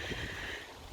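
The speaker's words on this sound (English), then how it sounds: "Oh, sorry, a bit windy. Just decided to blow through." Wind buffeting a microphone outdoors in a vegetable garden, a steady close rumble and hiss that fills the short moment with no speech over it.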